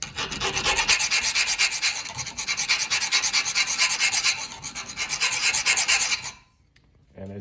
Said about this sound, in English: With hardened material, as this should be, the file will skate off of it and not take away any material